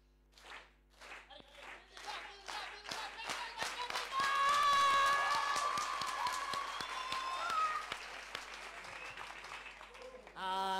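A theatre audience at a children's poetry competition claps on cue, starting with a few distinct claps that build into loud, dense, rhythmic applause, with cheering and voices rising through the middle before a brief spoken word at the end.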